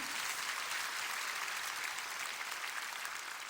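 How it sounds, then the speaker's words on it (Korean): Audience applause at a prayer gathering holds as a steady, dense wash of clapping that stays fairly faint and distant throughout, with no clear voices over it. "박수 한번 쳐주세요"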